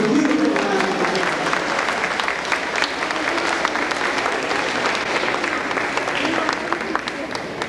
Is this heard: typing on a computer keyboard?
no